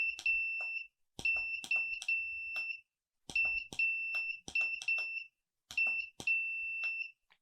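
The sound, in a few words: Morse code beeps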